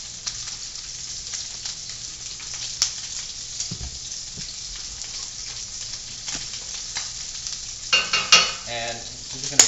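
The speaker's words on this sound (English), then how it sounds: "we're just going to start cooking the onion" Chopped onion frying in olive oil for chicken cacciatore, a close continuous sizzle and crackle with occasional stirring scrapes, growing busier and louder near the end, with no talking.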